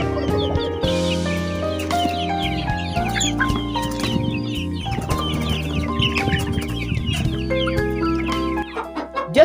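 Local farm chickens cluck and cackle close by, with busy overlapping calls over a steady tonal background that runs the whole time.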